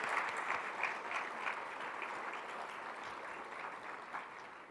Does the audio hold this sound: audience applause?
yes